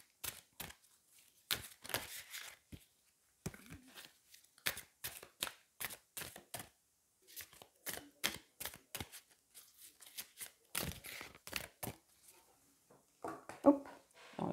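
Oracle cards of an elemental deck shuffled and drawn by hand, a series of short crisp riffles, snaps and slides in irregular bursts, close and moderately quiet, with no talking.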